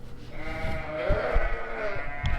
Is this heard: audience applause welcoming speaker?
no